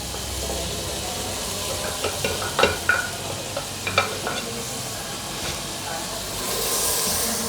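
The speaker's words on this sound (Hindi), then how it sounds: "अब मैं इसमें प्याज डालूँगी।" Chopped onions going into a pan with lightly golden ginger, frying with garlic and ginger for chicken makhani handi; a steady moderate sizzle with scattered stirring clacks and a rising hiss near the end, no talking.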